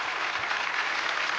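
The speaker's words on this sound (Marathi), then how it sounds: "त्याच्यासाठी जोरदार टाळ्या." Brief, dense applause for a singer on a televised music competition stage, with many hands clapping evenly at a steady volume.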